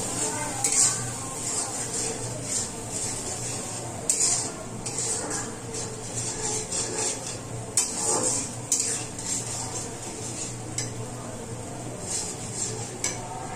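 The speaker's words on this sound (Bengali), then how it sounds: "সমস্ত উপকরণগুলো আমি ভালোভাবে কষিয়ে নেব।" Chilli powder, coriander-cumin powder and salt for a water spinach dish with dried fish being stir-fried in a pot, with repeated scraping and clinking of a metal spoon against the pot over a low sizzle, close and fairly loud.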